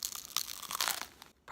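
A crusty bread roll baked in a solar oven is bitten into up close, giving a run of crisp, crackling crunches that stop after a brief pause. A short hummed voice follows.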